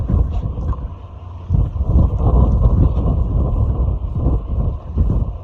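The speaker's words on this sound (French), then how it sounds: "Il y a vraiment beaucoup de vent, faut que je parle fort." Strong gusting wind buffets a phone microphone outdoors at a roadside car event in the Galibier mountains, producing loud, low rumbling bursts that swell and ease over several seconds, with no voices.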